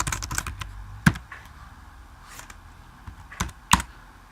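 Keys clatter on a computer keyboard while C++ code is entered in Xcode, a burst of quick close taps at the start, then scattered single strokes with a few sharper loud clicks, no talking.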